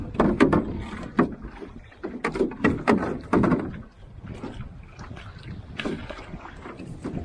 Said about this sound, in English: going to be a fun little paddle across Lila